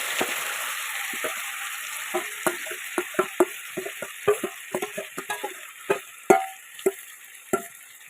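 Chicken masala frying in ghee and oil, a soft continuous sizzle broken by a steady run of sharp scrapes and taps as a spatula stirs the pan close by.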